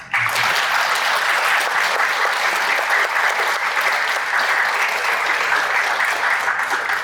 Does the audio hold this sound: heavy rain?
no